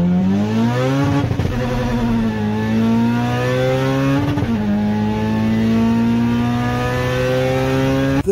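A Honda Integra VTEC engine revs hard through rising gear pulls, a loud, close, continuous howl that climbs in pitch, briefly drops at each shift, and then climbs again.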